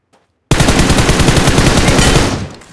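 Sustained automatic gunfire in a shooting video game, one loud continuous burst of rapid shots lasting about two seconds after a brief silence, then cutting off.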